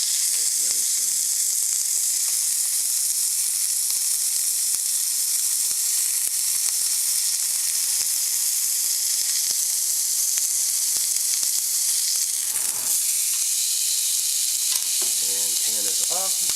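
A strip steak sears in a hot pan, giving a loud, continuous sizzle that stays constant throughout, with occasional faint clatters and brief distant voices in the background.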